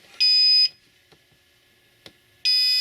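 A Redodo 100Ah Group 24 lithium battery with Bluetooth sounds its alarm: two loud, high-pitched electronic beeps about two seconds apart, with faint clicks in the near-silence between them.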